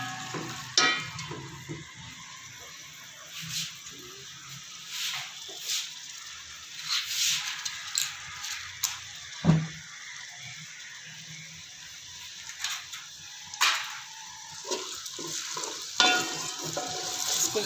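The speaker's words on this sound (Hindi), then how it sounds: "ये हम प्याज जो है ब्राउन कर रहे हैं थोड़े से" Onions browning in a pan for chicken biryani, a continuous quiet sizzle broken by repeated spatula stirs and scrapes at an uneven rhythm, close and with no talking.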